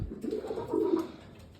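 Pigeons cooing inside a pigeon loft where cream-coloured and pouter birds are nesting on eggs, a low murmuring coo swelling through the middle of the short stretch, fairly quiet and close.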